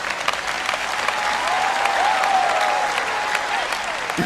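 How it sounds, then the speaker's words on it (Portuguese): Audience applause at a televised sermon fills the room, loud and steady clapping from a large crowd that holds throughout without any speech. "Agora você aplaudiu?"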